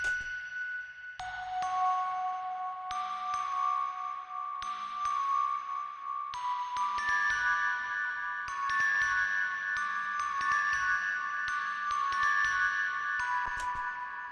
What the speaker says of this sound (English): I've got some bells down here. These are absolutely reverbed as humanly possible